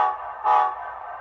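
A locomotive sounds a steady, loud horn-like tone that swells briefly midway and then settles, heard alone without talk.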